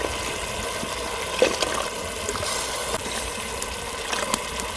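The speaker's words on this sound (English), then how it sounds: "I'm going to add some fresh milk in" Fresh milk poured into a pot of tomato soup made with fried onions, ginger and garlic paste, a soft steady trickle and splash of liquid running throughout at low volume with no one talking.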